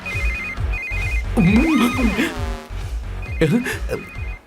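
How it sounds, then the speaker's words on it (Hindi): A telephone rings in a repeating electronic pattern through a Hindi-dubbed film scene, with people talking loudly over it in bursts and background music underneath. "इस वक्त दीदी का फोन।"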